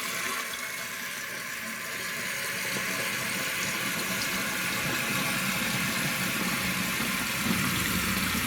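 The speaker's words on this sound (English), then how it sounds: "The toilet's flushed. And the process starts over again as it refills." A toilet tank refills after a flush: a steady hissing rush of water that builds slightly and then holds even, close up, with no voices.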